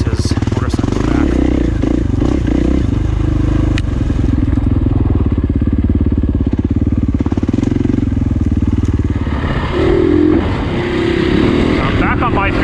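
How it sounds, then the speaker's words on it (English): Husqvarna FE501 dirt bike engine running steadily while being ridden, a loud, continuous throaty drone with a slight rise in revs near the end, close to the rider. "Wonder if Burns wants his motorcycle back."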